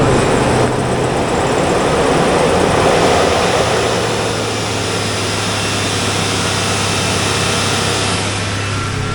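A 2007 Hummer H2 with a 6.0L LQ4 V8 runs at a steady idle, loud and close, with a constant low drone and a faint misfire warning noted.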